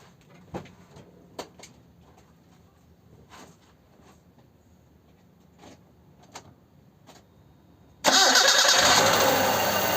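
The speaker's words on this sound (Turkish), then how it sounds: "Şimdi marşımıza bir basalım." A Hyundai Accent 1.5 GLS, just fitted with new spark plugs and plug leads, starts up: after several faint clicks and knocks the engine fires abruptly and runs loudly and steadily up close.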